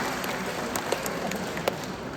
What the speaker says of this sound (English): Let's give another round of applause for Pastor Bangheli Alsaber